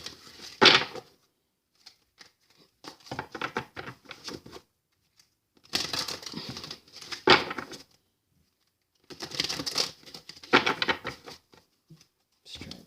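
An oracle card deck shuffled by hand in repeated bursts of soft papery riffling and patter, each lasting a second or two and separated by short quiet gaps, close and fairly faint.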